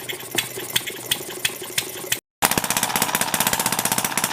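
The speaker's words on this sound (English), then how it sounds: "So this little engine is not hit and miss" A small quarter scale Thompson model engine, built from a casting kit and not a hit and miss type, runs close by with a fast, steady knocking beat that stops briefly, then resumes at a slightly quicker, even rhythm.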